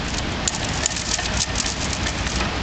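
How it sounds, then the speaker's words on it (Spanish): Steady rain hisses close by as a broadband wash, constant and fairly loud, with faint engine rumble underneath. "Un poco la lluvia."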